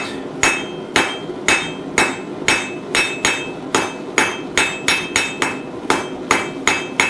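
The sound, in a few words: blacksmith hammering metal to taper arrowhead pendant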